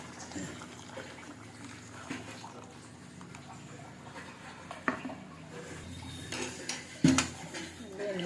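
Ground paste goes into a pot of boiling curry leaf curry, with clinks and knocks of utensils against the pot, a few sharp metallic clanks and soft liquid sounds over a low kitchen background.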